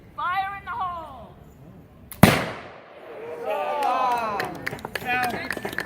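A single sharp, loud report from a Queen Anne .50 caliber smoothbore musket at a Renaissance fair, cutting through speech before and after, followed by crowd chatter and scattered handling sounds.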